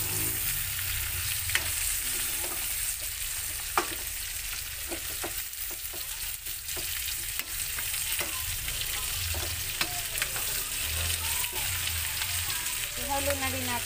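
Pork for a curry fries and is stirred in a hot pan, a continuous loud sizzle with scattered spatula scrapes and crackles throughout, close up, with no talking.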